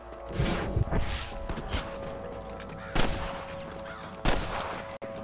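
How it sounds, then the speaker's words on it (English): Scattered gunfire in the Red Dead Redemption western game, several sharp shots cracking out at irregular intervals amid a busy, noisy background with some game chatter. "I can hear more gunshots"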